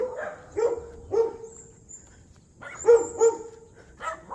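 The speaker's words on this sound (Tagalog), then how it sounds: "Buti na lang nakatali yung malaking aso na yun." A large tethered dog barks in short bursts, a couple of deep woofs, a pause, then several more barks at close range.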